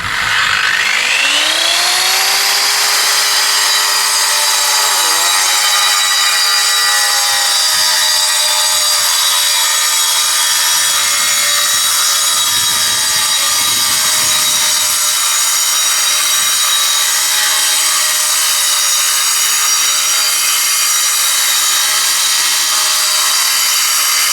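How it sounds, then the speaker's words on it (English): Angle grinder cutting paving bricks held in a jig, spinning up to a loud high whine and then grinding steadily and close for a long stretch with slight load changes. "hold it, turn on my grinder"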